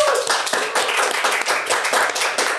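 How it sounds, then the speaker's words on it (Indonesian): Close hand clapping from a small group welcoming vocational school students, guests on an Indonesian podcast: brisk, uneven claps rolling for under three seconds, loud and near, with no talking. "Tepuk tangan dulu dong."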